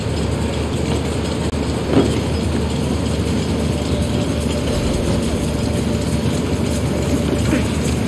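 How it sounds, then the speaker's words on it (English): A boat engine drones steadily in Uncharted: The Lost Legacy, a loud continuous mechanical rumble with faint rattling and clanking over it, heard without talk. "That's definitely the engine."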